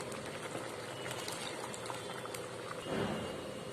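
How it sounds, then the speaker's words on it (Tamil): Vegetarian liver gravy bubbling at a low simmer in a pot as coconut milk goes in, a faint, continuous burble with a slightly louder splash near the end. "இப்போ நான் தேங்காய் ஊத்திடுறேன்"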